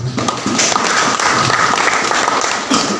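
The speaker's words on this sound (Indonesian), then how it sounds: "Berikan tepuk tangan meriah buat Yesus" A congregation at a Christmas service for a boys' dormitory in Lanny Jaya claps heartily for Jesus. The applause is loud and continuous, with bursts and swells across a few seconds.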